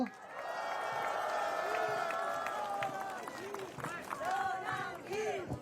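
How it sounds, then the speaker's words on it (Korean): An audience at a press conference applauds and cheers, with clapping and scattered voices rising and falling together in a moderately distant crowd wash. "우리 전환기 선생님에 대해서 박수 한번 부탁드립니다."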